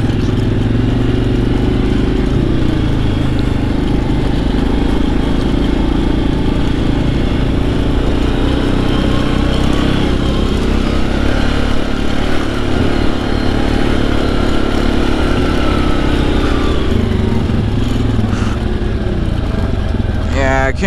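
Yamaha Grizzly ATV engine running steadily while riding, a loud continuous motor drone with rumbling low end and wind rush, close and unbroken.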